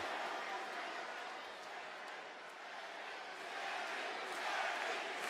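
A large wrestling crowd at WWE Raw roars in a steady, dense wash of cheering and shouting that swells slightly toward the end, heard from a distance behind a broadcast.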